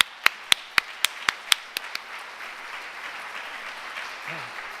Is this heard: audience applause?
yes